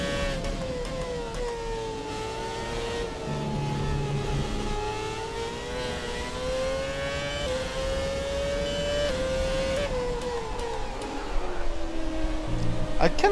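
Williams F1 car in the F1 2017 video game at the Brazilian Grand Prix, its engine howling and climbing steadily in pitch with sharp drops at each upshift, loud and continuous.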